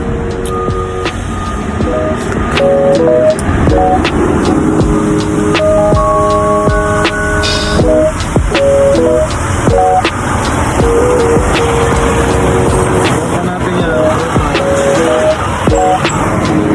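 Steady loud rumble of road traffic heard from a trailer truck in the Philippines, with vehicles passing nearby and scattered horn-like tones, no talking.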